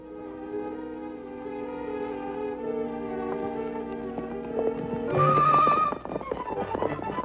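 Horses in an old Western scene trot with steady hoof clip-clops beneath a swelling orchestral score, and a horse whinnies loudly near the end.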